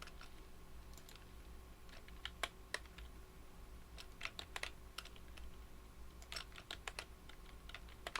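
Keys tapped on a computer keyboard while working in Photoshop, including a Ctrl+T shortcut. Crisp, scattered clicks come in small bursts, close and fairly quiet over a faint hum.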